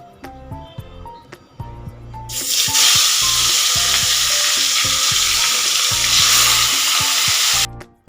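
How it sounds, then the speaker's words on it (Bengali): Catla fish pieces dropped into hot oil in a wok burst into a loud, dense sizzle that holds steady for several seconds and then cuts off, after quieter clinks and kitchen sounds at the start. "তেলটা গরম হয়ে গেছে এবার মাছটা এক এক করে ভেজে নেব এটা কাতলা মাছের পিস"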